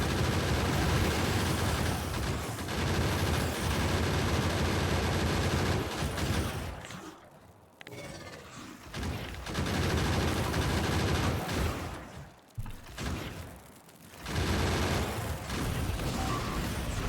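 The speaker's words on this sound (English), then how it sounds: "once I put ammo in these things, they are going to start firing away" Gun turrets in the factory-building game Factorio fire away in long, dense, loud volleys of rapid shots, dropping briefly into quieter gaps before the rattling barrage resumes.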